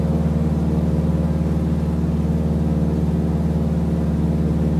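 Steady, droning piston engine of a T-6 Texan trainer at run-up RPM in Microsoft Flight Simulator, a constant low rumble with even harmonic throb and no talking.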